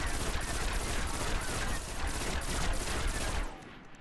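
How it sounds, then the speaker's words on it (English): Rapid-fire bursts from a pulse rifle in Destiny, a dense, loud stream of sharp shots for about three and a half seconds before cutting off abruptly. "now I'm going to do a fast trigger pull with the shooting as fast as I possibly can make it"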